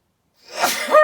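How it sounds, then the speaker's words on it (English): A single sharp sneeze, close and loud, rising from a quick intake of breath into a bright burst after a moment of silence. "I'm going to sneeze, excuse me."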